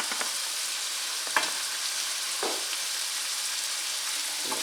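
Cabbage frying in a skillet, giving a steady broadband sizzle throughout with a few brief stirring scrapes and crackles; no talking.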